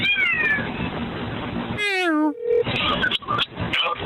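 A pet cat gives an unusual, drawn-out meow up close, a single loud wavering cry in the middle, with people talking before and after it.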